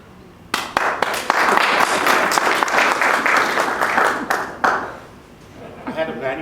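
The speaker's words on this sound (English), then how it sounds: "insert thunderous audience applause here" Thunderous audience applause inserted as a sound effect during an English-language presentation, a dense wash of clapping that swells in and rolls on steadily for several seconds before tapering, with a brief second burst near the end.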